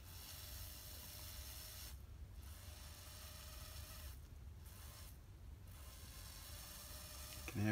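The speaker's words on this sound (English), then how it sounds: "You can hear it sizzling away." Salt water sizzles steadily on knife steel during electro-etching, a faint continuous hiss with a low hum beneath and a few brief gaps where it drops out.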